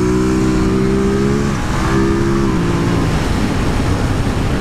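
A 2023 Ducati Monster SP twin-cylinder engine revs up in a steady rising tone, then drops away into a rough, rumbling idle.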